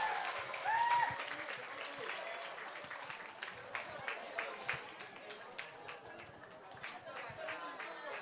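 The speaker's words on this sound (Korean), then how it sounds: "박수 부탁드립니다." Parents at a church Christmas show for preschool children clap after the little ones' performance, a soft, fairly distant round of applause with a brief cheer near the start, steady throughout.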